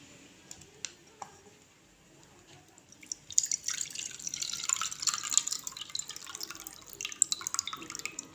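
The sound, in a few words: draining water from soaked fox nuts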